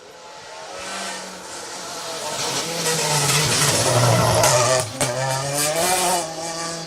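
Rally2 Ford Fiesta rally car on an asphalt stage of the Jim Clark Rally, its engine building from a distant rasp to a loud, close revving roar with sharp gear-change dips before easing away.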